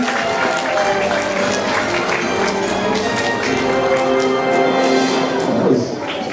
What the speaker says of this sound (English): Give our fourth graders another round of applause.